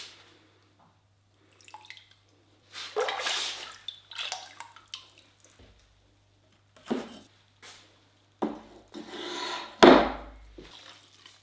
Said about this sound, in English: you want to wipe the bottoms of the jar and the bottoms of the lid so they don't stick to your kiln shelves